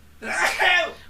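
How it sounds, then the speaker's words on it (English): One forceful human sneeze close by: a sharp inhale, then a burst lasting about half a second and fading out. "I'm going to sneeze right now"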